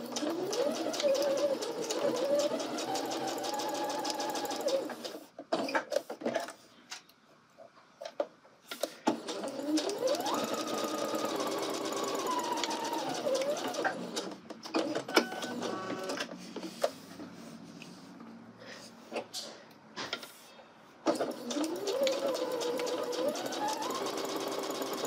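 Sewing machine stitching a welt seam at a 5/8 inch allowance, a faint, steady whirring run that pauses briefly several times before restarting.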